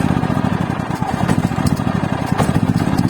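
A Black & Decker BXGNI4000E inverter generator engine running steadily after starting, a close, loud, even mechanical chug with a fast regular pulse throughout.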